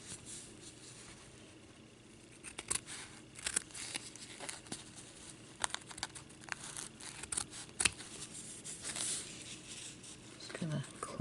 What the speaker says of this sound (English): I'm going to come in with my detail scissors and just cut right here against the edge